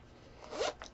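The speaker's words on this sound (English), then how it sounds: "And you can zip it all the way down." A wallet zipper is pulled in one quick, close rasping stroke, followed by a brief softer scrape as it finishes.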